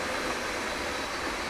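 A Dutch ICMm Koploper train in Train Sim World 5 on the Groningen–Zwolle route rushes past as a steady, loud broadband roar with no talking.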